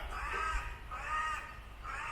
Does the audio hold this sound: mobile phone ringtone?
no